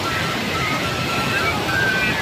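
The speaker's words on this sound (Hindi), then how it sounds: "काफी तेज गति से पानी आ रहा है नाले में" Fast water in a mountain stream beside a rocky trail in the Himalayas rushes as a steady, broadband roar that fills the whole moment with no breaks.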